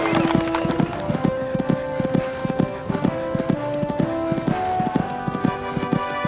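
Rhythmic hoofbeats of a horse at an eventing jumping round, close and loud, a quick repeated beat of strides.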